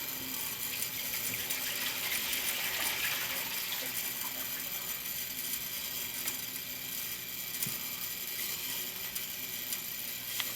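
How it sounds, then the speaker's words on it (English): A toilet with a leaking anti-sweat tank valve flushes and refills, a steady, hissing rush of water that continues without a break and with no speech. "Flush it a couple of times."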